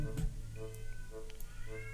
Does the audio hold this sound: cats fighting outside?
yes